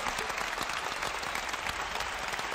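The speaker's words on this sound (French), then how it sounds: "On l'applaudit bien fort, s'il vous plaît." An audience at an arts event gives steady, dense applause that holds at an even level throughout, with no voices standing out.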